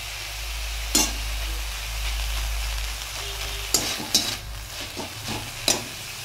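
Mustard paste is stirred into drumstick flowers frying in a pan, a constant close sizzle broken by several sharp scrapes and knocks of a spoon against the pan.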